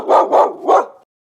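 A dog barks three times in quick succession, loud and close, as the animal sound in a children's farm animal matching game, followed by silence.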